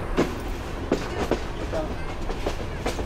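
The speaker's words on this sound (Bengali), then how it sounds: "এই যে ট্রেন বিশাল কার্ভ নিয়ে বের হয়ে আসছে ব্রাহ্মণবাড়িয়া রেলওয়ে স্টেশন থেকে" Mahanagar Express train curving out of Brahmanbaria railway station, its wheels clacking in a steady rhythm over the rails with a continuous rumble, a few sharper knocks standing out close by, and faint voices underneath.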